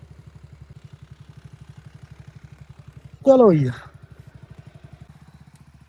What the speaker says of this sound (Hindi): एक ही बाइक पे आ गए, स्प्लेंडर पे तीनों हम।